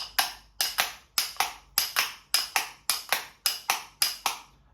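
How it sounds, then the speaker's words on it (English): A wooden clapper tapped against a hand in quick pairs of crisp, close clacks, repeating in an even galloping rhythm with no talking. "Another way to play the clacker is you can tap it on your hand like this."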